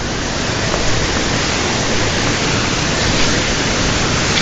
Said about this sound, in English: As you can hear, that waterfall's moving